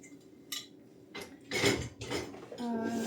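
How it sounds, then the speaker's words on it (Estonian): Dishes, plates and cutlery clattering as they are loaded into a home dishwasher in a kitchen, several separate clinks and knocks close by, with no talking. "Aga ma nüüd täidan selle nõudeka jälle ära."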